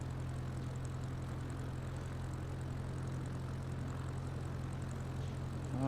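A propeller airplane in a flight simulator taxis off the runway, its engine droning in a steady, even hum with a low tone throughout, at moderate volume and with no talk over it.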